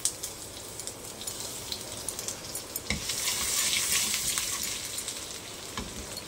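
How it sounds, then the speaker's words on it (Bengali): Cumin seeds, bay leaf and chopped garlic frying in hot oil in a pan: a steady crackling sizzle that swells louder partway through, broken by a few light spoon clinks. "দিয়ে দিলাম একটু জিরে, একটু তেজপাতা, আর আমি একটু দিয়ে দিলাম রসুন কুচি।"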